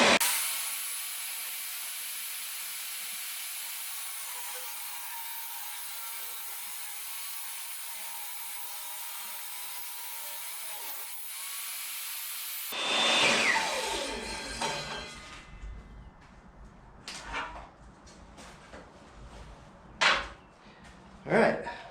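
A woodworking machine runs steadily for about twelve seconds, a loud sustained whine as it shaves a reclaimed oak pallet board, then cuts off into clattering and handling noises with a voice talking.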